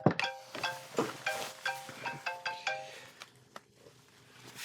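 A telephone rings in an office setting, a bright electronic ringtone repeating in quick pulsed bursts about eight times before stopping, close and clear with no voices over it.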